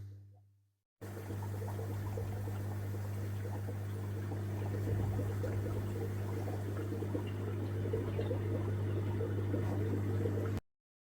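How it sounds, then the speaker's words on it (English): A water pump refilling a shrimp tank gives a continuous low electric hum under a steady bubbling, trickling wash of water, running evenly for about ten seconds after a brief gap. "I'm just pumping some water back into a tank that I had to remove temporarily."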